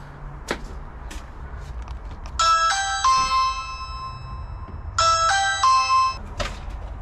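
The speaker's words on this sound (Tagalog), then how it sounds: "Ring the bell, ring the bell." An electronic doorbell chime rings twice at a home in the Philippines, two bright multi-tone ding-dong sequences about two seconds apart, fairly close and loud over quiet room background with a soft knock or tap beforehand.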